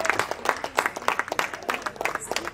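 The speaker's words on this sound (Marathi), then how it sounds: "सगळ्यांसाठी जोरात टाळ्या." An audience at a magician's show at a youth camp in Usgaon claps in a quick, rhythmic run of loud, close claps that lasts only a couple of seconds.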